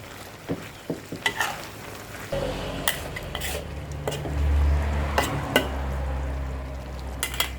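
Wild boar meat stir-frying in a pan over medium-raised heat, a steady sizzle with spatula scrapes and clanks against the pan, close and alone.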